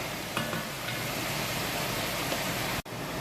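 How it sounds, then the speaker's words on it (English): Raccoon meat browns in a cast iron pot with a dense, continuous sizzle that stays close and even, then cuts out for a moment near the end before resuming. No talking. "so it has been browning for a couple minutes now"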